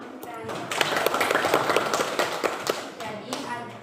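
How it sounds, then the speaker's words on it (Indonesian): A classroom audience claps together in a short burst of quick, close applause, with people talking over it. "Boleh tepuk tangan untuk Tani."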